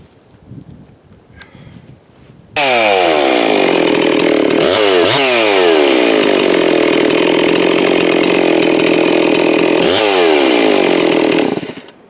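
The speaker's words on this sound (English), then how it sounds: "Let me get these other saws going." A Stihl MS660 chainsaw fitted with an aftermarket cylinder roars to life and runs loud and close at high revs, dipping briefly twice as the throttle eases before it cuts off.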